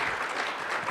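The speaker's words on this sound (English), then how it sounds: "So big round of applause to John" A brief burst of steady applause from a conference audience at an email marketing summit, dense and even throughout.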